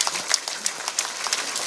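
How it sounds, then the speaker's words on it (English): Audience applause at a live event in Nigeria, a dense steady wash of many hands clapping at close to moderate distance, with no talking. "Please give them all a round of applause."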